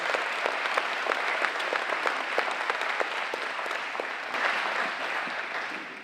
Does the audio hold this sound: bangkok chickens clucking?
no